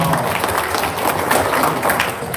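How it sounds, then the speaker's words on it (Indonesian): Audience applause at a testimonial gathering, a continuous burst of clapping from a crowd at moderate distance, steady and loud for the whole clip. "Tepuk tangan dong."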